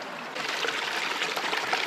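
A small spring along a rugged winter backpacking trail on the Eagle Rock Loop in Arkansas, its water trickling and splashing steadily and close by, heard alone with no voices.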